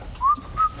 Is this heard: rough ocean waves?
no